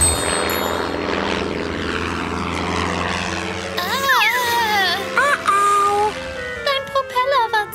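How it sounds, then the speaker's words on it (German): A cartoon airplane drones with a propeller-like hum in a children's animated show, steady for several seconds before giving way to squeaky character voices and bright musical effects. "Morphel, verwandle dich in ein Flugzeug und rette Tante Augustin."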